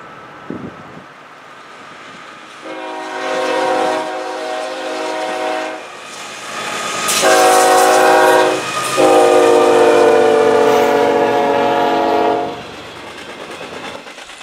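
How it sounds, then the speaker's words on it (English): A southbound Norfolk Southern intermodal freight train led by a GE ES44AC and a GE ES44DC, built 2010 and 2005, passes close by, sounding long, loud multi-note horn blasts over the rumble of wheels. "we see a southbound intermodal train being led by NS 8032 and BNSF 7675, making it our first train of the video"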